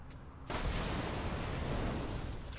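Explosions of destructible objects in Borderlands 2 land as a sudden loud, sustained burst of broadband noise that starts abruptly and rumbles on without a break, following a quieter stretch.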